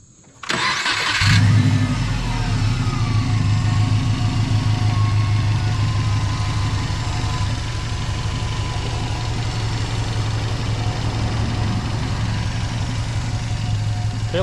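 A 2011 Subaru WRX engine with a new valve cover gasket cranks and catches, then settles into a steady, close, even idle that holds for the rest of the recording.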